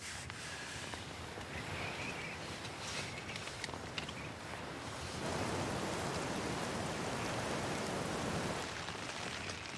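Steady rain falls, a soft broadband patter that thickens into a heavier, denser downpour partway through, fairly faint and with no talk.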